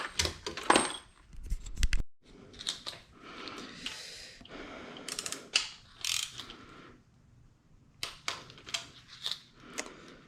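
A ratchet wrench tightens bolts during a BMW N55 engine rebuild, close and clicking in short repeated bursts of rapid pawl ticks separated by brief pauses, with little speech.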